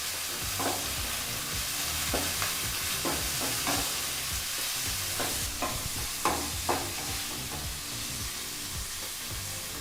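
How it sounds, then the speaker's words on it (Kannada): Onions frying on low flame in a pan for chitranna, a soft continuous sizzle with scattered scrapes and taps from stirring, moderately close and with no voices. "ನಂತರ ಈಗ ಈರುಳ್ಳಿನ ಸೇರಿಸಿ ಒಂದು 2 ರಿಂದ 3 ನಿಮಿಷ ಈರುಳ್ಳಿನ ಫ್ರೈ ಮಾಡ್ಕೋಬೇಕಾಗತ್ತೆ"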